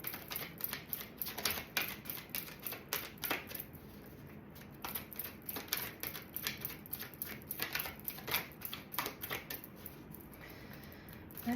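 Tarot cards are shuffled by hand in quick papery bursts and riffles, close and fairly quiet, with brief pauses between rounds.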